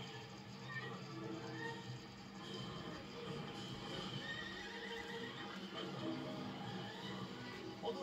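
Horse neighs and whinnies over steady clip-clopping hooves in an animated film chase scene, loud and continuous under dense background sound.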